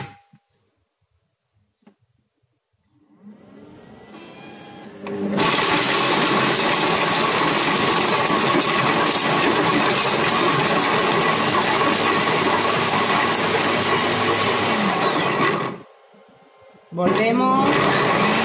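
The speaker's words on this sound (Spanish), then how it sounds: "ahora vamos a poner el chocolate con leche. Le vamos a dar unos golpes de turbo." A Mambo kitchen robot blends milk chocolate for a three-chocolate cake on turbo pulses: a loud, steady whirring roar of about ten seconds, a short pause, then another burst.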